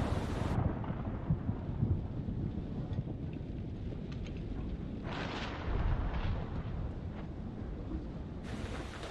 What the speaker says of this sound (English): I don't like storm